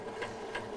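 A sewing machine stitches across several layers of fabric piping, a soft, close mechanical whir with faint periodic clicks over a short moment and no talk.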